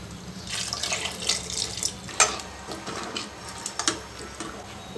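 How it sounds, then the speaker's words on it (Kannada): Water splashes and trickles into a metal pressure cooker in uneven bursts, with a few clanks of the vessel, close and moderately loud. "ಈಗ ಇನ್ನು ಸ್ವಲ್ಪ ನೀರು ಸೇರಿಸ್ತೀನಿ"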